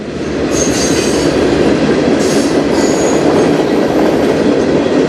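Freight cars of a CN train roll by near and loud, a continuous heavy rumble with brief high wheel squeals flaring now and then, no voices.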